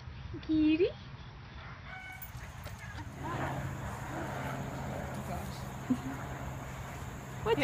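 A short, slightly distant rooster crow near the start, then a steady hiss of background noise with faint murmuring.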